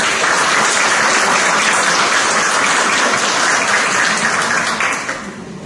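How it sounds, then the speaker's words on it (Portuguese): Loud, sustained applause from an audience at a school-psychology round-table event, filling the room steadily for about five seconds before tapering off at the end. "Por favor, então, uma salva de palmas para a professora Ana Aragão."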